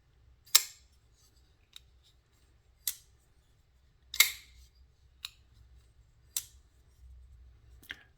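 A Kizer Coniferous titanium knife with a Micarta handle and 154CM blade is flicked open and snapped shut by its thumb stud, producing six sharp, close metallic clicks spaced about a second apart in near silence.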